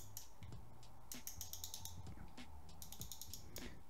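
The magnetic brake dial on a KastKing Royale Legend Pro baitcaster reel is turned, giving rapid, quiet ratcheting clicks in bursts, heard close up with no voices.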